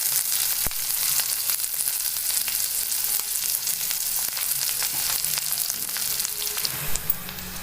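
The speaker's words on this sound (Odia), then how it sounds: "ଆଉ ଏଠି ମୋର ପିଆଜ ଭାଜି ହେଇଗଲାଣି।" Onions frying in a pan with green chillies and curry leaves for upma, a steady close sizzle with scattered crackles and faint stirring scrapes running throughout, with no talking.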